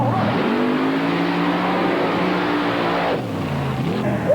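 A mud racing car launches at full throttle at an NMRO mud race in McComb, Mississippi, its engine blaring loud and sustained with rising tones before the pitch drops off near the end.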